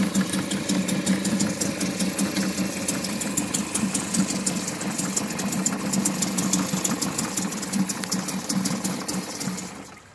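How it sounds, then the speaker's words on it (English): A Mercury 3.3 outboard motor idles steadily on a lake boat right after starting, a fast even buzzing putter that holds at a constant level for about ten seconds, close and loud with no talking. "Took a couple of cranks, but it fired up."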